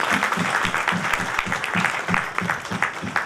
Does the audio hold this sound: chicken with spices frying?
no